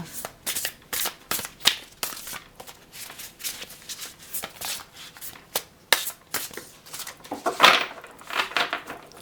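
Tarot cards being shuffled by hand to draw a single card, a run of close papery riffles and slaps in irregular bursts, with a sharper card flick near the end.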